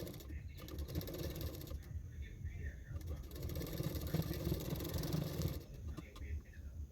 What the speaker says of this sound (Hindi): नेक के चारों ओर मैंने इस तरह से फोल्ड करते हुए सिलाई कर रही हूँ